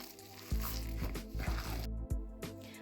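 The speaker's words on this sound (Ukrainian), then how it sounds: "Перемішуємо усі інгредієнти. Найкраще це робити рукою." A hand kneads a wet buckwheat patty mixture in a bowl, producing close, soft squelching and sticky squishes in a loose, irregular rhythm.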